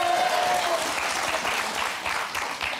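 A studio audience on the French game show Motus breaks into applause, a thick, even wash of clapping that holds steady and loud, with faint voices underneath.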